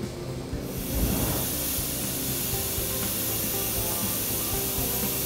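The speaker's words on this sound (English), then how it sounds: "We're gonna spray a test bun, and we're gonna start installing product once we ensure it's good material." A spray foam insulation gun spraying a test bun from a rig, giving a loud, steady hiss that swells after a brief start and holds on continuously, with no talking.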